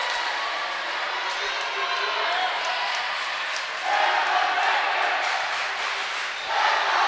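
Home crowd of Refugio fans cheering and yelling in a gym during a varsity volleyball match against Woodsboro, a steady roar that swells louder in bursts.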